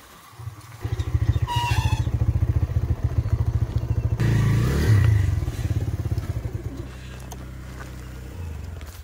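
Several motorbikes carrying riders ride through a stream crossing at Daojeng, engines chugging loudly with a rapid rhythmic throb, clattering and splashing as they push through the water, the engine note dropping to a steadier idle toward the end.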